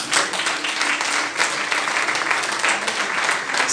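Church congregation applauding steadily and loudly, a dense wash of clapping hands that continues without pause throughout.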